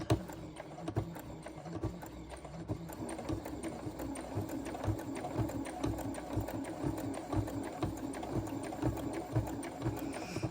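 A sewing machine stitches binding onto a quilt, running in a steady, fast mechanical chatter with a dense rhythmic needle pulse throughout, close and continuous with no talking.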